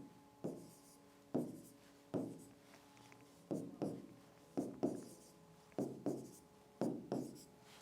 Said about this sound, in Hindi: संख्या रेखा बनाएंगे, उस पर हम क्या करेंगे, संख्याएं लिख देंगे